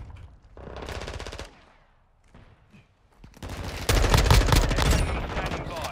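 Call of Duty Modern Warfare 2 multiplayer gunfire: loud bursts of automatic weapon fire, a brief volley early, a quieter gap, then a sustained heavy barrage of rapid shots and explosive impacts dominating the end.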